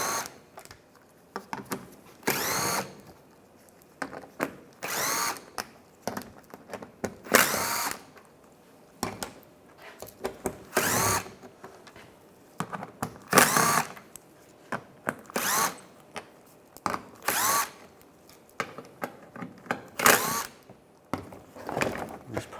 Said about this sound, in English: Using an 8mm socket, take all these bolts out.